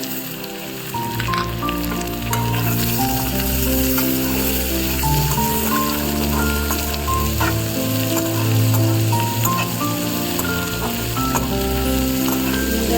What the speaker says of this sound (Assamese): এতিয়া এয়া কাটি লোৱা আমখিনি বহাই দিলোঁ।